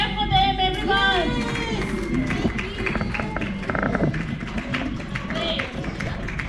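Audience clapping at an international early childhood care and education conference: a scattered patter of hand claps that starts under a speaking voice and carries on, with talk continuing over it.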